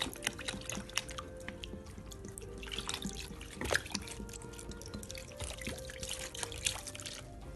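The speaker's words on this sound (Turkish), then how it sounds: "Yağımı şu anda bir soğuk suyun içine koyuyorum." Homemade butter from cream being washed by hand in cold water in a cloth-lined basin, with close splashing, dripping and trickling water sounds throughout.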